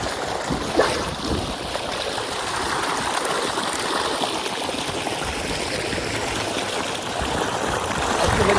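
Clean water rushes steadily along a small irrigation channel, a close, continuous broadband wash and gurgle that holds an even level throughout and rises slightly near the end.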